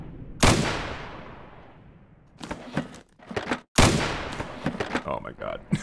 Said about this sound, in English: What are you shooting even?